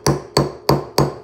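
A metal punch is hammered into a tin sheet to make a punched-tin lamp, four sharp ringing metallic taps in an even rhythm, loud and close with no talk.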